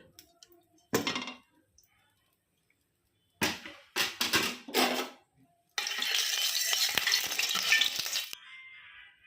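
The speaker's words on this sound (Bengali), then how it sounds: "ছোট ছোট শেপে ভেজে নিচ্ছি" Small chops of banana stem and lentil fry in white oil: short scraping bursts of handling first, then a steady, crackling sizzle that holds for a few seconds before cutting off.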